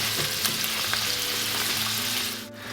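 Prawns sizzle and spit in a hot wok while mee goreng is cooked, a dense, steady frying crackle with a few stirring scrapes, close and loud, with no voices.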